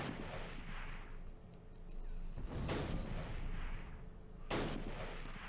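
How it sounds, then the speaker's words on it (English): Mortar rounds land in a World War II battle game set at Arnhem, where Polish paratroopers fight German SS. Heavy booms and rumbling blasts go off in separate bursts, loud and close, with no talk over them. "That may have actually been one of our mortars causing problems there."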